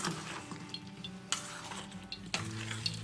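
Spoon stirring cooled mustard oil into green chili pickle masala for Marwari mirchi achar, soft wet scraping and squelching with occasional clinks against the bowl, quiet and close.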